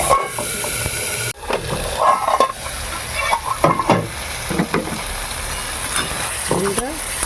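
Gime greens with tomato and cashews stirring and frying in a pan over high gas, steady loud sizzle with scraping spatula strokes and clatters throughout.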